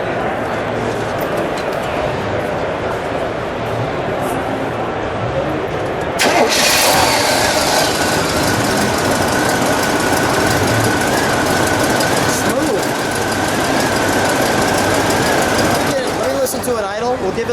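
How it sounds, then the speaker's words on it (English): A 1971 Oldsmobile 442 W-30 with a 455 V8 cranks and fires up, then settles into a loud, rough, lumpy idle heard up close, with someone talking over the running engine. "All right, let's start her up, shall we? I might see that flap open up. We'll let it idle, and then we'll give it a little rev."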